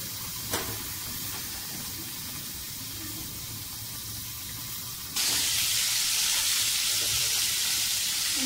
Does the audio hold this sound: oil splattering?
yes